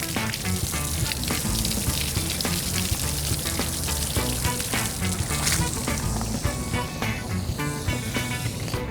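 Heavy water spray pours onto an IXG-DM7-HIDA door intercom in a simulated rainstorm, a loud, dense, continuous hiss and splatter that runs unbroken from start to end with no voices.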